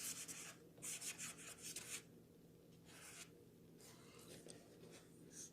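A brush or marker rubbing across a painted canvas while writing a word, steady scratchy strokes in short bursts with pauses between them, close and soft, with no talk.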